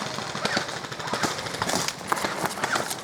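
Airsoft guns fire in rapid bursts and scattered single shots during an outdoor zombie-themed game, sharp cracks and rattles at mid distance over rustling movement.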